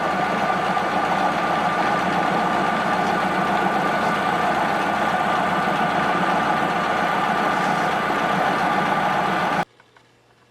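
A machine runs after a fine adjustment, holding a steady, even mechanical hum with a light knocking texture close up, then cutting off abruptly near the end.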